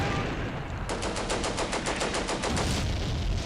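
A rapid, steady machine-gun burst lasting under two seconds cuts sharply through rumbling battle noise in the World War II tactics game Combat Mission: Beyond Overlord, during fighting at La Fiere.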